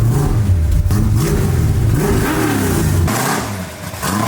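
A 1965 Ford Mustang with a freshly installed engine and new clutch rumbles and revs up close as it pulls away, its deep, steady drone swelling and easing, then dipping briefly near the end.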